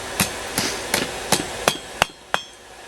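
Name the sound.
hammering steel over the edge of an anvil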